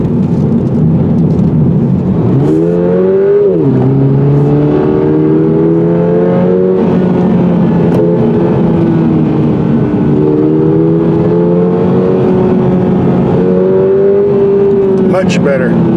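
A 2022 Toyota GR86 engine revs up and pulls through the gears, its loud, rising tone sustained across the whole stretch, heard from inside the car.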